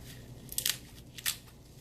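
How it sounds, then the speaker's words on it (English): Kale leaves being cut off the stem with a knife or blade: a few short, crisp slicing and crunching strokes, close and fairly quiet, with no talking. "You can either grab the leaves like this, get on this side of the stem, and you're just going to cut."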